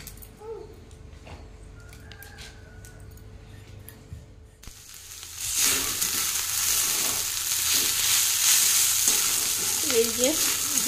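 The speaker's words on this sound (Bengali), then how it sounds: "এই যে বিট ভাজা হচ্ছে, প্রায় হয়ে এসছে" Beetroot fries in a pan, first quiet with faint clinks, then a loud close sizzle that swells in halfway through and continues steadily with occasional stirring.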